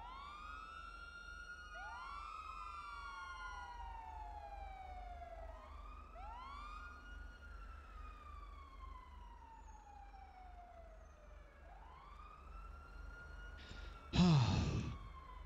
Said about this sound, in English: I hear sirens all over the place.